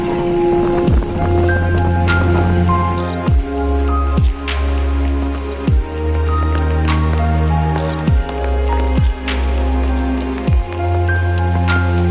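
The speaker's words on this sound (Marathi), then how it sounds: "पाऊस पण मजबूत आला" Heavy rain pours steadily at Adare Dam in the Konkan, a loud, dense wash of water with regular heavy drips splashing close by throughout.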